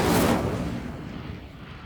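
An Incendio fire spell effect from a Harry Potter video game bursts out as a single soft whoosh, then fades over about two seconds.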